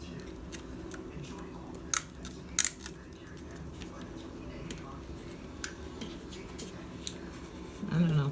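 A tape runner is pressed and dragged along the back of a card folio, a few sharp clicks and faint scratchy strokes close by, with talking in the background.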